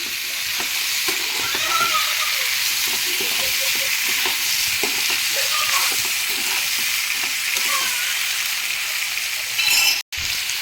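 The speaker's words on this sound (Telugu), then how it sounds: "బీరకాయలు టమాటాలు అన్నీ మిక్స్ అయ్యేలాగా మిక్స్ చేసుకోవాలి" Ridge gourd and tomato curry sizzles steadily in a pan while being stirred, a continuous close frying hiss with soft scraping of the spoon throughout and a brief break near the end.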